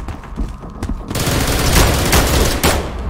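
Gunfire in the video game SCP Containment Breach, a loud sustained burst of rapid shots that swells after a brief quieter start and rolls on continuously, close and dominant with no talking.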